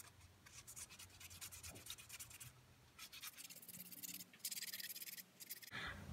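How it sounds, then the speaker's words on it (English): Continuous wet scratchy rubbing as a billiard ball is wet sanded, steady and close, with a few brief pauses and shifts in tone as the sanding strokes change. "so I'm going to wet sand this."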